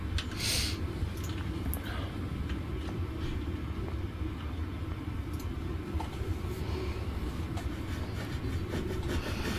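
An HST train pulls into a station platform in Train Sim World, a continuous low rumble with rail clatter and faint clicks, steady and fairly close, with no voices.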